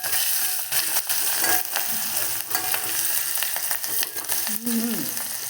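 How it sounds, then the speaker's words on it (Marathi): Chopped coriander sautéing in a hot tempering for dal, a steady soft sizzle and frying hiss with stirring scrapes in a pan, fairly quiet and continuous. "थोडीशी कोथिंबीर टाकूया आणि छान परतवून घेऊया."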